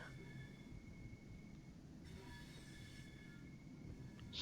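Class 465 electric multiple unit easing into a station in Train Sim World 4, heading toward Dartford: a steady low rumble of running gear with faint high whine, continuous and moderately quiet, no talking.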